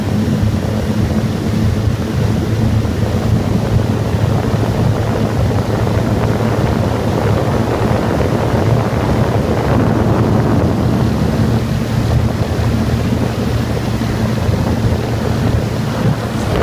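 A steady engine drone of a Luhrs motorboat over rushing water and wind, loud and continuous throughout without pause.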